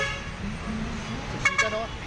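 Heavy multi-lane highway traffic heading toward Fairview, a steady rumble of cars and trucks with two short car-horn toots near the end.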